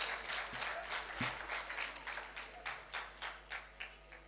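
Applause from a small audience at a university awards ceremony, with scattered claps that thin into a few distinct, spaced-out hand claps toward the end, faint and somewhat distant.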